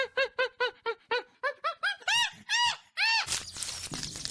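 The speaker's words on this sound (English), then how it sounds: "Monkey." A monkey gives a rapid series of loud, squeaky whooping calls, about a dozen rising hoots in quick rhythm, ending in a burst of noisy rustling.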